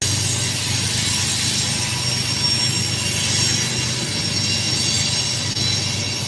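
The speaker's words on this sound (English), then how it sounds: "starting with the train stopping" A train rumbles nearby with a continuous loud roar and a high metallic hiss of wheels on rails, steady throughout with no voices.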